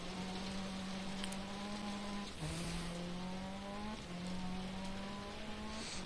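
A rally car engine in Dirt Rally drones steadily through corners, rising in pitch between gear shifts with brief dips and faint tire noise, heard alone at a moderate level.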